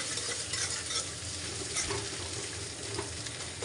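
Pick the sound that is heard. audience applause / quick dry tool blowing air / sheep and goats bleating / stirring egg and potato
stirring egg and potato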